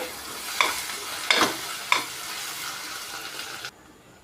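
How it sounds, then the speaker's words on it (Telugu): Ground masala paste sizzles and fries in a pan for paneer curry, with a steady crackling hiss and three sharp stirring scrapes early on before the sound cuts off abruptly. "కొంచెం సేపు వేపుకుందామండి ఇది"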